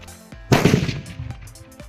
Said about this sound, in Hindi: काफी औसम हमारा यहाँ पे सुतली बम की आवाज़ आई है